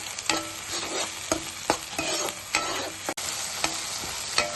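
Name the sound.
tomato paste cooking and sizzling in a pan for curry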